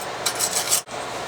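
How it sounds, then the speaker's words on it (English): Wire brush scrubbing a small-engine lawn mower spark plug, a brief close scratchy rasping of a few quick back-and-forth strokes, ending with a sharp stop. "I get my wire brush out, and I'll just hit this for a second, clean it up"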